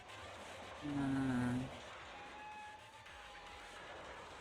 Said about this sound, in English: Train reactivated.